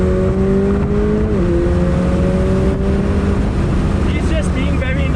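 Roofless McLaren Elva supercar driven on the Sepang circuit, its loud engine note holding steady then shifting pitch as it changes gear, with wind roar and voices talking inside over it.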